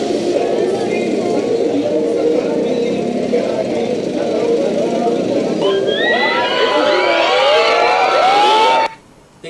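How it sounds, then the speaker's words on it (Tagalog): Crowd at a shop soft opening cheering and shouting as a celebrity appears, a loud dense roar of voices that swells into high excited screams before cutting off abruptly near the end. "Nyo ang hiyawan nung lumabas si Miss V"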